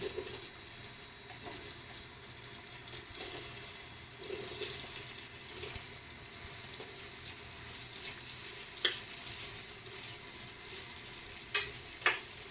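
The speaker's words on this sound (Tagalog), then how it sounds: "Piprito ko lang ng konti sa butter." Pork frying in butter with a little olive oil for a pot roast, a steady soft sizzle with faint crackles and a few sharp pops near the end, no talking.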